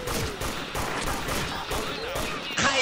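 Gunfire in the SF shooter game, a dense run of shots and fusillade-like bursts that stays busy and loud throughout, ending with a sharper noisy burst.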